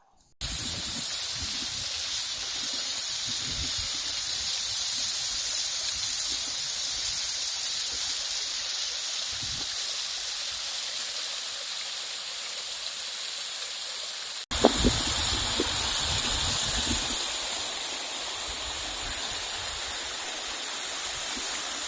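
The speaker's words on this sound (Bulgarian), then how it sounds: "стигаме до едно красиво езеро с водопад" A waterfall pours into a lake at the end of a canyon, giving a steady, even rush of water heard from nearby for the whole stretch, with a brief thump partway through and no voices.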